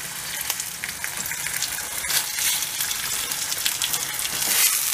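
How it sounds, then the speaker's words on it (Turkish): Slices of salami and sucuk fry in a pan for a homemade breakfast, giving a steady, loud, close sizzle with crackling pops throughout and no talking. "Salamlarımı kızartıyorum."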